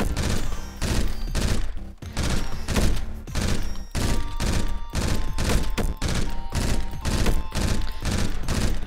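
Rapid gunfire from an upgraded gun with new ammo in an indie game-jam shooter, firing in dense, loud bursts broken by brief pauses, over steady tonal game sounds.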